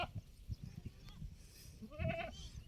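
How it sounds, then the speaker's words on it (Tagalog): A goat bleats once, fairly faint and at a distance in a pasture, over soft low thumps and outdoor rustling. "pinapanood po natin yung mga kambing natin dito sa pastulan na yan"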